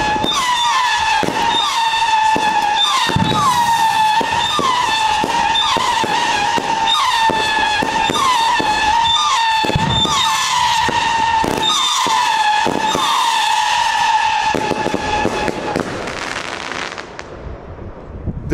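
New Year's Eve fireworks at close range, a dense run of loud whistling rockets with rising squeals and repeated sharp bangs and crackles, continuing without talk before tapering off at the end.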